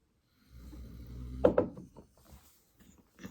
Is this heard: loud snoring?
yes